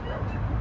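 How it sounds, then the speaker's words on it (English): A dog barks near a city riverside at 61st Street on the East River, a short close yelp with low rumbling water and crowd babble behind it. "That's the dog's bark here at 61st Street."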